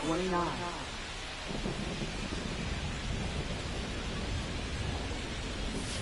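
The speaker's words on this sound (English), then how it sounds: "It feels like we might be headed towards a rain delay if the weather doesn't ease up, Chris." Thunderstorm with heavy rain in the baseball video game MLB The Show 25, a rumbling thunder roll at the start fading into a dense, steady wash of rain that continues throughout.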